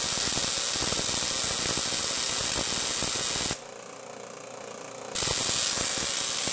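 A Tesla coil arcs as its secondary is touched, giving a loud harsh buzzing crackle that drops out for about a second and then comes back at full strength.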